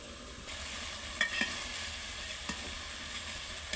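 Hilsa fish sautéing in a pan, a soft continuous sizzle with a few sharp clinks and scrapes of stirring, quiet and close, no voices.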